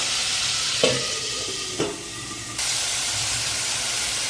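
Food frying in a covered pan while a full family lunch is cooked: a steady, loud sizzling hiss throughout, broken by two brief clinks near the start, with no talking.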